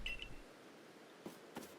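A short electronic phone ring in Pokémon Legends: Arceus gives a brief high beep pair at the start, then quiet game ambience with a few soft clicks.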